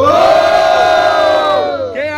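A large crowd at a rap battle semifinal in Nova Friburgo roars and shouts together in one loud sustained cheer, fading slightly at the end.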